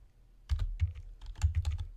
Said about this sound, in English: I'm typing the email address in right now.